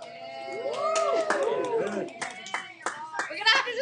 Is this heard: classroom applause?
yes